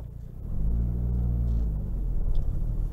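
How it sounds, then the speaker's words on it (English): A sports car cruising a twisty mountain road gives a low, steady engine rumble that swells slightly after the first half second and holds evenly throughout. "All right, on a little mountain drive here."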